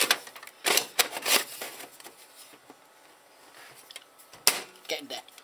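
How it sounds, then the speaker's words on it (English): A card reader is fitted into an old-style computer case, with scattered sharp plastic and metal clicks and rattles, a few louder bursts among quieter handling noises, and no talking. "And I'm going to put the card reader in."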